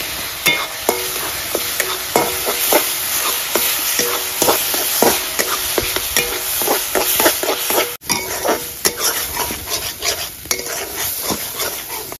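Ginger, green chili and garlic paste sizzles and fries in a pan, with steady crackling and repeated scraping and stirring clinks from a utensil against the pan, close and continuous.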